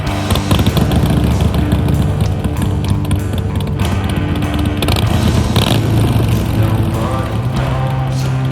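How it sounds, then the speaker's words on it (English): A classic Triumph motorcycle engine runs steadily on the road, a loud, continuous rumbling drone heard close with wind noise, holding an even note throughout. "The bike is running fantastically."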